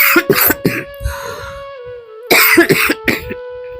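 A boy with a lung disease coughs in two clusters of sharp, strained bursts, the first around the start and the second after a brief lull, close and loud with no talk between them.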